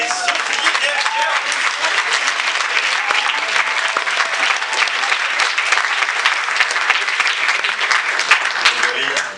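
Loud, dense applause from a festival audience greeting the short-film jury at the FEFFS 2024 closing ceremony, sustained and even throughout without pause.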